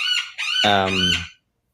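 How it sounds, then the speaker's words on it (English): A pet bird lets out one loud, shrill, crowing call lasting just over a second, close by, then falls silent. "that's my bird, if you can hear her. She loud."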